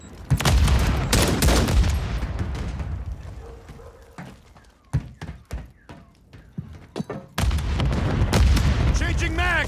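Grenade explosions and gunfire in Call of Duty: heavy booms and rattling bursts at the start and end, with a sparser run of single sharp shots between.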